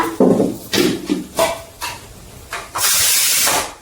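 Pressure cooker holding curry on the stove, several short bursts of steam followed by a loud sustained hissing release, close and alone without talk.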